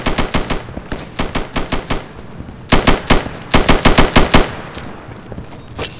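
Automatic rifle fire in the tactical shooter Insurgency comes in close, loud bursts of rapid shots, several clipped volleys separated by short pauses.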